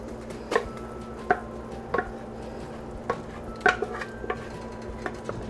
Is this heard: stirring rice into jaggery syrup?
yes